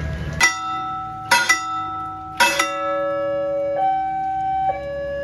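A railway level crossing bell in Indonesia strikes three loud clangs at regular intervals, each ringing out with a long sustained tone, followed by softer fading chimes, as the crossing closes for a departing train.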